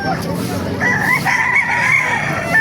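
A gamecock crows at a rooster market in Calumpit, Bulacan: a single drawn-out cock-a-doodle-doo rises and holds for about two seconds, loud and close, over a busy background of clucking birds and faint crowd murmur.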